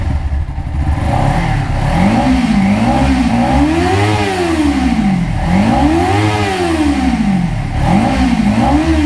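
A Kawasaki Ninja motorcycle is ridden on a cold day in India, its engine repeatedly climbing and falling in pitch through several rev sweeps, loud and close over constant wind rush.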